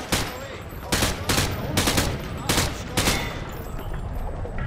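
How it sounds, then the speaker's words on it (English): Automatic rifle fire at range targets in Call of Duty: Modern Warfare 2, five or six loud close bursts about a second apart over a steady game background. "Grab that weapon off the table and fire at the targets behind you."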